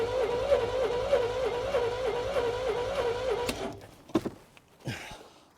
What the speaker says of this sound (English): now I'm gonna spin the engine and see what number I get